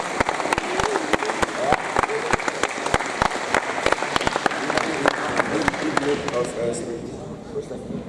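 Audience applause at an award ceremony, dense clapping from a crowd with sharp individual claps standing out, steady for several seconds before thinning toward the end, with voices mixed in.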